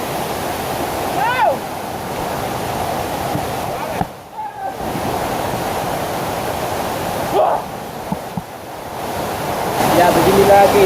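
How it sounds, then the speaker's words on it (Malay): Waterfall rushing loudly in a continuous broadband roar at a forest waterfall in Sekadau, Indonesia, with brief pauses and faint voices or calls cutting in now and then. "kita sudah sampai di atas air terjun"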